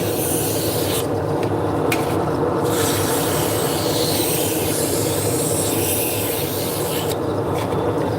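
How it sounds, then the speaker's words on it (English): Sandpaper rubbing steadily against a spinning wood turning on a lathe run at low speed, a continuous close abrasive rasp with a constant motor hum beneath and no talking. "Then we're going to turn the speed down on the lathe and sand it out."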